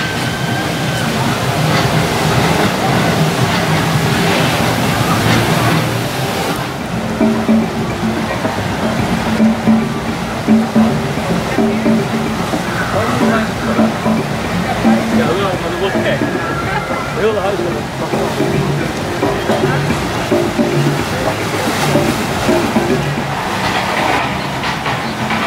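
A river rapids raft ride at Walibi Holland amusement park produces continuous loud rushing and sloshing water with mechanical rumble, and people talk throughout.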